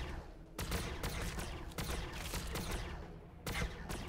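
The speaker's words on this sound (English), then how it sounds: "That's some good shooting there, buddy." Gunfire in Warhammer 40,000: Battlesector rattles in repeated sharp volleys, fairly faint and steady against a busy battle backdrop.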